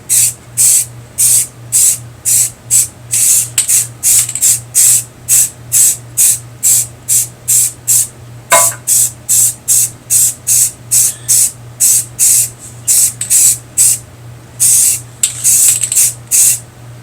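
An aerosol can sprays Golden Sunset paint onto homemade slapper bars for a 1964 Ford Falcon Sprint, loud close hissing bursts repeated in a steady rhythm of short pulses, alone without speech.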